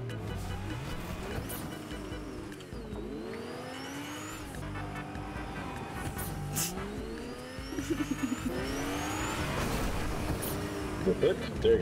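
Car engine revving and tires squealing in a Fortnite game, the motor rising and falling in pitch with skids, while people talk loudly over the driving.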